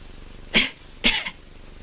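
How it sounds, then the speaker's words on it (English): Two short, breathy coughs about half a second apart, close and fairly loud against a quiet background. "Again, cough again."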